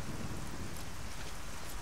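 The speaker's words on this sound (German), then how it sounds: "Und es regnet." Rain and thunder sound in the video game Arcania, a dense loud wash of falling rain with a deep low rumble underneath, continuous and with no voice.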